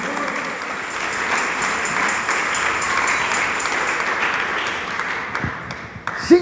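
A church congregation claps at a sermon, a dense, sustained patter of applause that thins and fades near the end with a few scattered claps.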